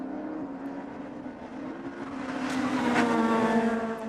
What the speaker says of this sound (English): You can hear the cars scrape as they change surfaces from the runway to the connecting pieces.